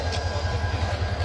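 A train idles at a railway station platform in Bangladesh, giving a steady low rumble with faint rhythmic pulsing, close and continuous.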